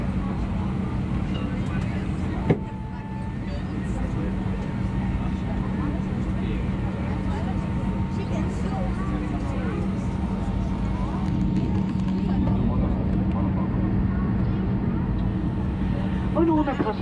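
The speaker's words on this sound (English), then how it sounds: "we are delighted to welcome you on board of this Airbus A319" A steady, loud engine drone fills the cabin of a Brussels Airlines Airbus A319 on a flight from Marseille to Brussels. A crew announcement plays over the constant rumble.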